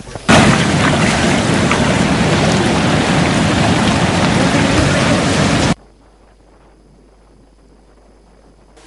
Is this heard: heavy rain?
yes